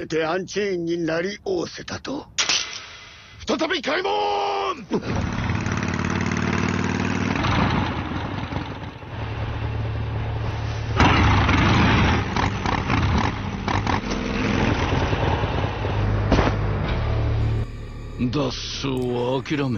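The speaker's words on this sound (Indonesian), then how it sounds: "Tak lama kemudian datang Oliver sembari mengandari sebuah motor" An animated motorcycle engine hums and idles as it arrives, a steady mid-pitched drone that holds for most of the scene, with voices speaking before and over it.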